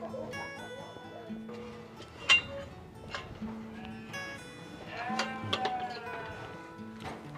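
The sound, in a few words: flock of Valais Blacknose sheep bleating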